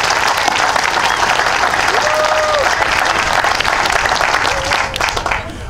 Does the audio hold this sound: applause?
yes